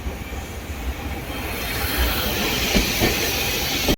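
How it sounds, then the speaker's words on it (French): A tram rolls past on a street in Osaka, a steady broad rumble and hiss of wheels on rail that swells toward the end, with faint clicks near the close and no talking. "On croise un tramway."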